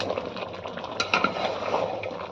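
Goat meat being stir-fried with spices in a pot for a picnic curry, a steady close scraping and stirring with light clinks of a utensil against the pot and a soft sizzle underneath.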